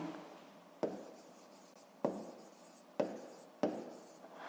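A pen writes digits by hand on paper, four or five short scratchy strokes, each starting with a sharp tap and fading, close and quiet in a still room.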